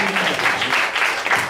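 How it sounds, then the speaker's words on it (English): Audience applause at a hypnosis stage show, a steady wash of clapping from the crowd filling the whole moment without pause. "A big round of applause for our stars."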